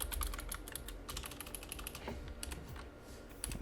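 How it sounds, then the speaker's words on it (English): Rapid, close keystrokes on a computer keyboard come in uneven bursts of clicks, with no voices over them. "I want you guys to be able to see what I'm typing"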